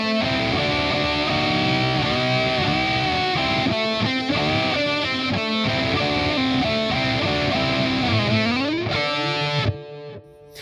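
Distorted electric guitar plays the second phrase of a song slowly, with barred chords high on the neck, a steady run of sustained notes and bends, alone and fairly loud, cutting off near the end.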